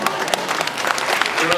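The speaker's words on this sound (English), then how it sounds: "Give them another round of applause, please" Audience applause following a Ravana dance from West Sumatra, Indonesia, at an Eid celebration in New York City, steady dense clapping from a crowd throughout, with a voice speaking over it.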